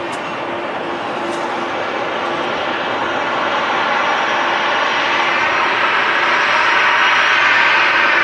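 A Ryanair Boeing 737 airliner roars at Manchester Airport, a broad continuous engine rush that grows slowly louder over several seconds, heard alone without talk.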